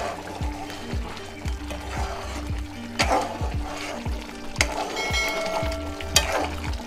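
Mutton masala curry cooks in a pot with a low steady bubbling and sizzle, punctuated by regular thick plopping bursts and a few scraping stirs, close, with no talk.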